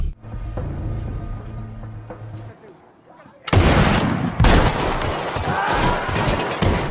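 Gunfire in an action film, a loud sustained volley of shots and blasts that erupts after a quieter stretch, dense and close, with voices mixed into the soundtrack.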